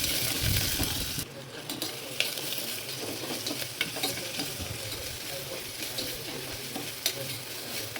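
Curry leaves and crushed garlic frying in a pan for a bitter gourd dish, a dense crackling sizzle with repeated stirring scrapes and occasional clicks of a spoon against the pan.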